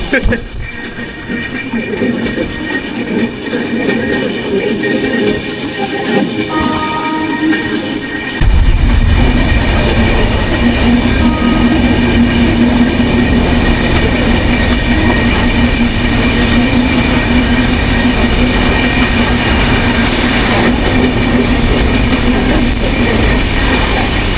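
The Gurumukhi SF Express train rumbles along continuously, loud and close, with a steady clatter that grows heavier partway through and a low droning tone; a voice speaks over it in the first stretch.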